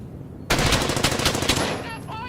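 Bursts of rapid machine-gun fire in Brothers in Arms: Hell's Highway erupt suddenly after a quiet start, loud and close, rattling in a dense stream before tapering into a fainter tail.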